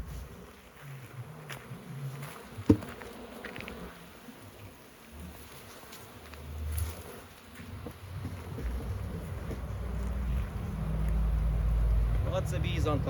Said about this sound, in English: So this one here has got lots of bees on top.